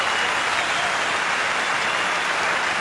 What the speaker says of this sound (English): Great burst of applause.